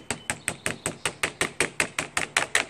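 A hammer striking in an even, rapid series of about fourteen sharp close taps while a pet door is installed in a sliding patio screen door.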